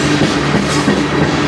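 A CN freight train rolls past at night in Sarnia, Ontario, a loud, steady rumble of cars with faint rhythmic clatter running through the whole stretch, close by and without voices.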